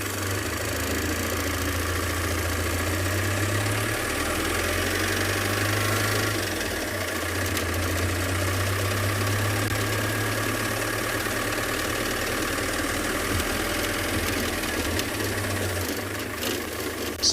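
A safari vehicle's engine runs steadily on a sunrise game drive at Tswalu, a continuous low rumble with a knocking idle-like tone and vibration, close and constant throughout with no talk.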